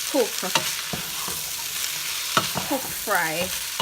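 Veggie meat fries in a pan under a steady hiss. A spatula stirs it now and then with clacks, scrapes and a few squeaky utensil squeals.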